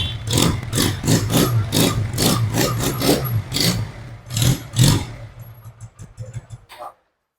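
A motorcycle engine fires up and runs with repeated rhythmic revs, loud and close, then cuts off abruptly near the end.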